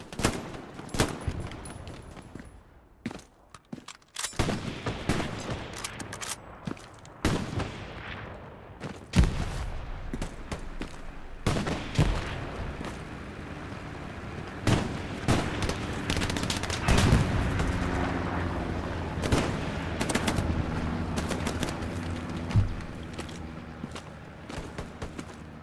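Gunfire in the Hell Let Loose video game during a competitive match, bursts of rifle and machine-gun shots with heavier booms, some sharp and close, others distant, scattered across a long stretch with no voices.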